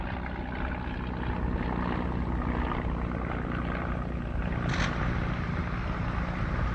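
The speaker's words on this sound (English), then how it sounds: "The sound of aircraft engines crossing the front died away." World War I aircraft engines crossing the front make a steady, dense propeller drone that holds at an even level throughout, with no voices.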